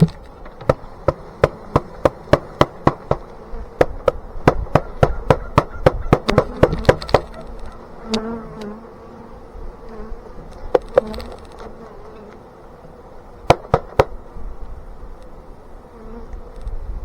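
Buckfast honey bees buzz steadily around a hive being set up in Alaska, a continuous close hum with a series of sharp taps and knocks from the hive work over it.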